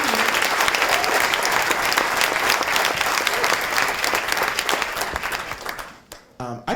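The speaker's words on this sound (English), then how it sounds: "I was going to invite you all to join me in giving a round of applause to these geniuses here." A film Q&A audience applauds steadily and densely for about six seconds, full and close, before the clapping thins and fades out near the end.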